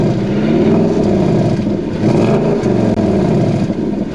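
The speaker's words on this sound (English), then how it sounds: "we're gonna get an exhaust clip now" A 2018 Mustang GT convertible V8 engine revs and rumbles loudly and close, its deep exhaust note rising and falling throughout with no talking.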